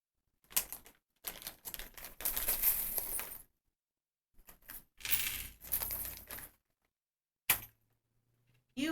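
Tarot-style charms being shuffled and poured out, several bursts of small hard pieces clattering and clicking together, separated by short pauses, close and fairly loud with no talking.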